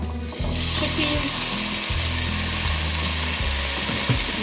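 Chickpeas hitting a hot pan in a simple garden vegetable curry, sending up a steady, loud sizzle with low clattering and scraping underneath that runs without a break once they go in.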